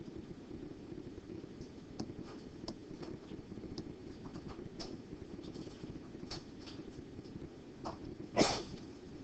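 A single sneeze from someone in a lecture hall during a chemistry lecture, a brief loud burst near the end over steady low room noise and faint background murmur.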